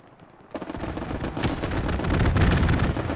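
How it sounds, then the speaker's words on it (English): Aircraft cannon fire from a strafing run in a WWII video game match at Utah Beach, a rising roar of rapid gunfire bursts that grows louder and denser after a quiet start. "Strafing run comes on through."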